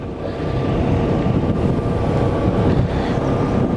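A steady engine drone rumbles continuously throughout, a motorboat motor left running at a constant pace while anchoring in a current, with no voices.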